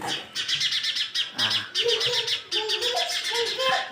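A sparrow chirps at its nest box, rapid bright tweets in quick bursts, close and clear, with faint voices softly in the background.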